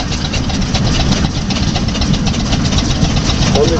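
A large 1912 steam roller engine runs steadily nearby, a loud, continuous churning rumble with rapid mechanical knocking and hiss, with no break across the few seconds.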